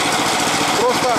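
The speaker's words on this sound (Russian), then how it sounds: "сейчас у меня получается холостой ход на мотоблоке" A walk-behind tractor powering a Zarya rotary mower idles steadily, its engine putter continuous and close throughout.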